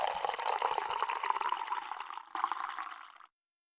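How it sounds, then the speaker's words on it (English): Coffee pours from a pot into a cup on a desk, a steady bright liquid stream filling the cup for about three seconds, with a brief surge near the end before it stops abruptly. Close and fairly quiet, with no talking. "That was me actually reaching over to the pot of coffee on my desk and pouring a cup of coffee live on air."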